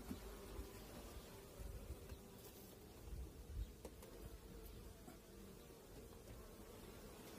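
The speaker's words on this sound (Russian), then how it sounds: "Пчелки ползают, облетываются со всех сторон, сидят на улике." Honeybees swarm around alpine-style hives during a cleansing flight, a steady dense buzzing hum that fills the scene at moderate loudness, with individual bees passing close now and then and no voices present.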